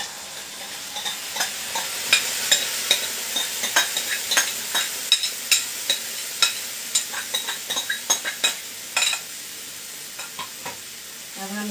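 Curd cooking in a kadai over a low flame, a continuous sizzle broken by repeated clanking strokes of a spoon scraping the pan in an uneven rhythm, close and fairly loud, no voices.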